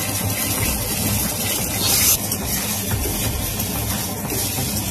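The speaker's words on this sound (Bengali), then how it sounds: "এবার বেগুনটা খুব ভালো করে ভাজবো।" Eggplant frying in a pan with turmeric for a Bengali vegetarian meal, giving a steady, even sizzle and hiss that carries on without pause and with no voices over it.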